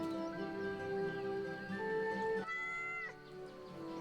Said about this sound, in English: You can pet the kitty.